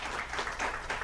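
Audience applause filling a live comedy podcast taping in the Rose Room in Dallas, a steady, moderately loud wash of many hands clapping that holds without break for its whole second.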